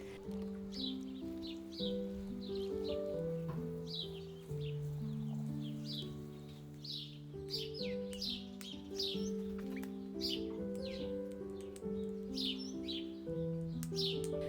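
Small birds chirp and tweet in short, repeated calls around a garden bird bath in an Australian cottage garden, fairly faint over steady background music.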